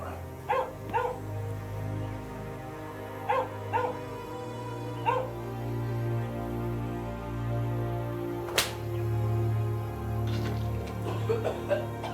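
A dog in a film scene gives a few short barks and yips followed by drawn-out whimpering and whining, fairly close, with a sharp knock partway through and a low hum underneath.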